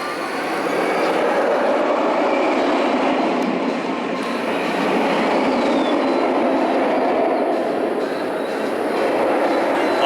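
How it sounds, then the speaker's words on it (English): A B&M roller coaster at La Ronde amusement park in Montreal gives a steady, loud rumbling roar, sustained throughout with a slight swell, heard from a distance and with no voices. "you can hear that B&M roar from afar"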